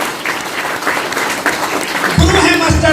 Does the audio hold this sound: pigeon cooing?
no